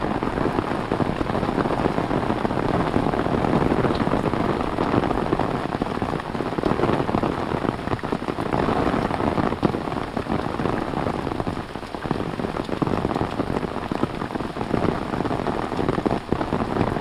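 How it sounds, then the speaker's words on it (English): Steady, close rain from a thunderstorm pours on the surface along the Appalachian Trail, a dense even hiss that holds at the same loudness throughout with no voices. "Thunderstorm caught us."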